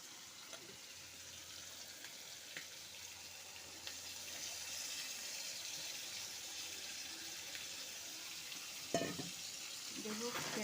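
Marinated spice paste of ginger, garlic and onion sizzling with fried chicken in a pan, a faint steady hiss with occasional stirring clinks and a soft splash near the end.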